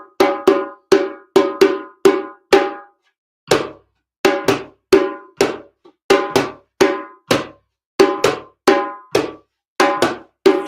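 Cowbell strikes ring out alone as a signal rhythm in a rhythm circle, with sharp, loud, evenly spaced hits in groups separated by short pauses.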